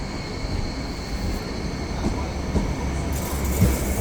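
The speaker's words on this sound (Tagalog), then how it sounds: "Ito po yung style ng train nila dito sa Hong Kong." A train rolls past in Hong Kong, giving a steady, fairly loud rumble with a faint high whine and a few light rail clicks, while someone may be talking quietly underneath.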